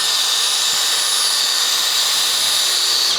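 An ordinary cordless drill, not an impact driver, runs continuously at high speed driving a caravan jockey leg, a loud unbroken whine with no pauses.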